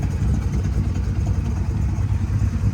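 A 1968 Camaro with a 327 V8 idles steadily close by, a low rumbling pulse with even loping throb and no voices over it.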